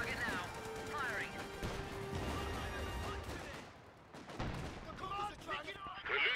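Artillery fires in the World War II strategy game Company of Heroes 2, dense booms and crashes mixed with gunfire and shouted in-game voice lines over a constant loud battle din.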